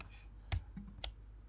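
A computer mouse right-clicks during image layer editing: a couple of small, quiet clicks over faint background hiss, with no talk.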